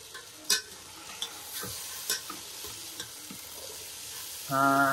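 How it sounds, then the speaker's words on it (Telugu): Chickpeas stir-fried in a pan for a Ganesh puja offering give a steady close sizzle with sharp clinks of a spatula scraping metal, ending in a brief tonal hum. "మీరు చూసినట్టయితే గుడాలు ఫ్రై చేస్తున్నాం."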